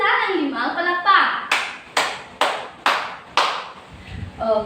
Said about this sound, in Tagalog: Bigyan din natin sila ng 5 palakpak.